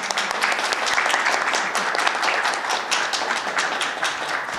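Audience applause at a public event where sports scholarships are handed out, dense steady clapping from a crowd throughout, loud and close with no break.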